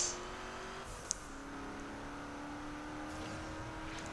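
A car whooshes close past in the open-world racing game Forza Horizon, with a steady engine drone whose pitch shifts as it goes by, played with no music and no talk.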